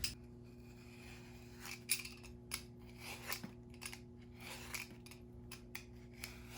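A mango being peeled with a knife or peeler like a potato, giving a run of soft, irregular scraping strokes close up, with no talk.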